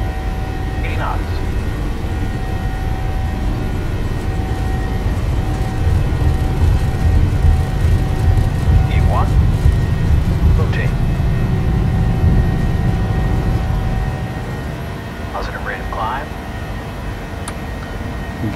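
A PMDG airliner in Microsoft Flight Simulator 2020 on its takeoff roll, with a loud, steady engine roar and rumble that builds and then eases slightly toward the end.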